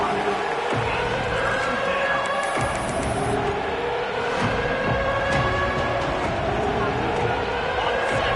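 A large American football stadium crowd roars steadily throughout, a dense wall of cheering and noise with no pauses, urging the defense during a red zone stand.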